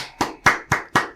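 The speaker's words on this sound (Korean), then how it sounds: "박수 한번 칩시다, 박수." Hands clap five times in a slow, even rhythm, each sharp, close and loud with a short decay, alone without speech.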